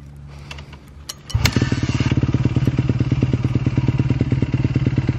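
A 2019 Honda CR125 two-stroke motorcycle engine kicks to life after some clattering and then settles into a loud, close, rapid idle with an even, popping beat.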